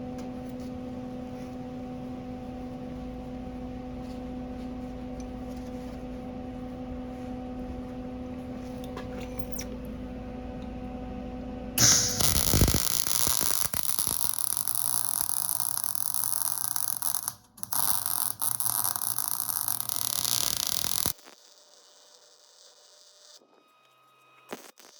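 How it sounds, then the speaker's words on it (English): A MIG welder burns a bead on a steel mud flap bracket for a 2022 Ford Bronco, starting partway through as a loud, steady crackling hiss after a long stretch of low hum, with a brief break before cutting off. "You'll notice the sound on this weld, it's going to sound a bit better."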